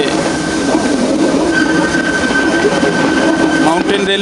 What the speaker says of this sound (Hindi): जो पहाड़ों पे जाती हैं, पहाड़ों पे चलाई जाती हैं, स्पेशली टूरिस्ट पर्पज़ के लिए होती हैं और इनकी चढ़ाई के लिए रैक एंड पिनियन सिस्टम रहना ज़रूरी है।